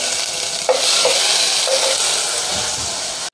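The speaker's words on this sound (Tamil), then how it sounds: "பாத்திரத்தை ஹீட் பண்ணிவிட்டு இஞ்சி பூண்டு பேஸ்ட் வந்து சேர்த்துக்கலாம்." Ginger garlic paste frying in a heated pan, a loud continuous sizzle with steady hiss and a few stirring scrapes, close up with no voices.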